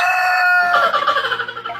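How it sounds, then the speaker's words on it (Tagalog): A rooster crows loudly and close by, one drawn-out crow with a bright, strained rising and falling call, rough and full at the end. "Nang biglang tumilaok ang swerteng manok na ito mga guys."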